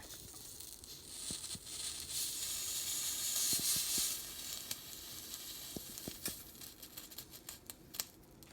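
Old candle wax in a holder on a hot stove sizzles and hisses, broken by scattered sharp little pops and crackles that grow more frequent toward the end; no one speaks.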